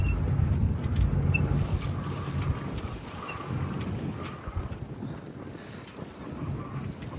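Steady wind buffets a sailboat running with the wind under its head sail, a continuous rushing roar with low water wash and occasional gusts, no voices.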